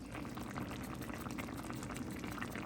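Homemade chicken and dumplings simmer in a covered pot, a faint, steady bubbling and gentle liquid burble throughout.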